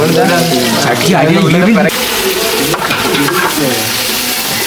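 Onions sizzle loudly in a hot pan while being stirred during a home crab-cooking session, a steady close frying hiss with scraping from the spoon, and people talk over it.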